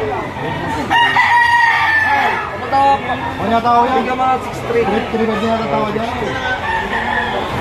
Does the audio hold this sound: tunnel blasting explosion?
no